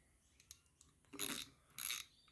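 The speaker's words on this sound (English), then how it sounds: "undoing the drag at the front and lift that right off" A fishing reel's front drag is unscrewed and lifted off during cleaning and oiling, giving two short, close mechanical clicking and ratcheting bursts after a few faint taps.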